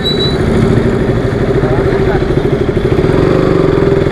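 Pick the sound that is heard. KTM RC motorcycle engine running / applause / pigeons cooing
KTM RC motorcycle engine running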